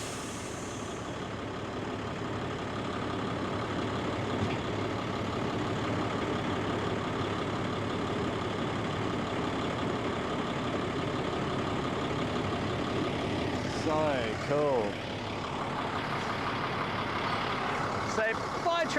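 A tipper dump truck's engine idles and rumbles steadily throughout, with a few brief squeals and hisses near the end, while people talk over it.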